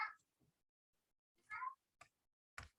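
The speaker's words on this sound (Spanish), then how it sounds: "Ese es mi gato, ignórenlo." A domestic cat meows close by, a short call at the start followed by a louder drawn-out meow and a couple of brief chirps, with quiet gaps between them.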